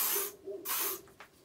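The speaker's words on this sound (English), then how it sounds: "So you just spray it lightly." Instant Defrizzer hair spray hisses out of its can in two close bursts, each a broad airy spray lasting about a third of a second, followed by a fainter short puff, nearby and with no talking.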